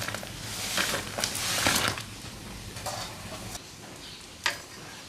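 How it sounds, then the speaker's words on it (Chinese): Spinach dumplings are dropped into a pot of boiling water, giving a steady seething bubble and sizzle broken by several sharp splashes and a louder plop near the end. "水烧滚了，才让那个饺子下到锅里"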